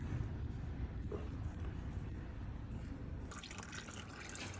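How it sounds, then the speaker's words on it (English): Engine oil drains from the sump of a Vauxhall Crossland X with a 1.2 PureTech engine, a faint continuous trickle and dripping liquid sound heard alone with no talk. "Whilst that's just finishing off draining"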